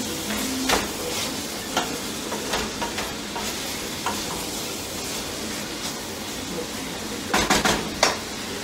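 Seasoned ground meat for hamburger soup is tossed and stirred in a pot, with soft sizzling and a few sharp scrapes and clinks of the utensil against the pot, close and alone.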